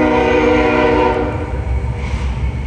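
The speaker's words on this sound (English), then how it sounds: "We have a train going by. Hear how loud that is?" Train passing close by on tracks at the edge of a rural property, a loud continuous rumble with a sustained horn-like drone that slowly eases, no talk.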